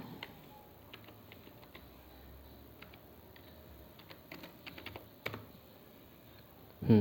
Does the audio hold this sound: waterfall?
no